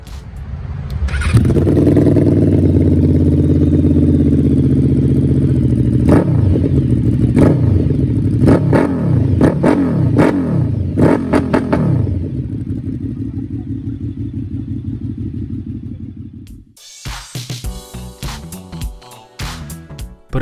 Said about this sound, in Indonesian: mesin V4 yang pastinya mempunyai sensasi dan suara knalpot yang berbeda